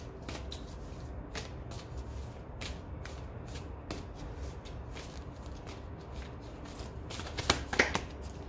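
A deck of oracle cards is shuffled during a spiritual card reading, giving a soft, steady papery riffle throughout with a few sharper slaps near the end, close and fairly quiet, with no talking.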